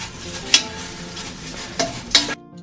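Dried laver seaweed stir-roasting in a tall, wide pan, with a continuous dry crackling rustle and a few sharp scrapes of the utensil against the pan, close up, ending in sudden quiet.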